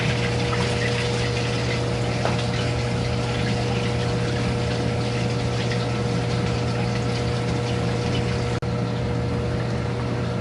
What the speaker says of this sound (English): Now that the water level is up even with my spray bar, I can plug my filter back in.